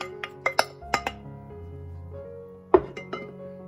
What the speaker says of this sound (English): I'm going to put all my quince in a pot.